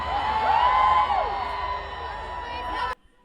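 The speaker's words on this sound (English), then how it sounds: "the crowd went so mild there" A crowd at a Jojo Siwa show gives a mild, thin cheer with scattered whoops and children's yells, steady for about three seconds before cutting off abruptly.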